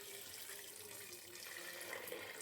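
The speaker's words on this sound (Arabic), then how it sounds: "وابتدي بقى ازوده ميه سلق، ميه نظيفه بقى." Clean tap water running steadily from a kitchen faucet into a cooking pot for boiling lupin beans, a continuous close, even rushing stream with no talk.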